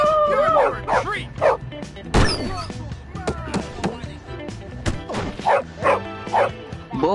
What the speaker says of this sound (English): But who dog is that?